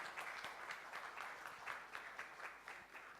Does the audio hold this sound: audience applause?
yes